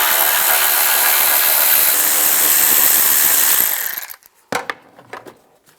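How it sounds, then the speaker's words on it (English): A power tool with a 10mm socket whirs steadily and loudly while removing bolts on a Cadillac DTS, then cuts off and leaves a few sharp knocks and clicks. "Take these 2 bolts out."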